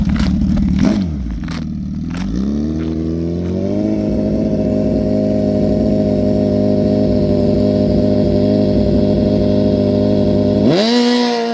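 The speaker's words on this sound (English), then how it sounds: "try to get the nanny controls to quit going off on this motorcycle" Gen 3 Suzuki Hayabusa drag racing motorcycle at a drag strip finals event, engine blipping and revving, then holding a loud steady high-rpm drone before cutting off abruptly near the end.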